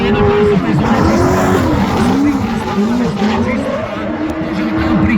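A race car on the Pezinská Baba hill-climb course runs with a loud, steady engine roar, its pitch rising and falling through gear changes, under continuous commentary.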